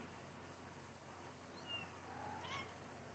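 A house cat gives a couple of faint, short meows against a quiet indoor background, the second call slightly rising, with no talking over them.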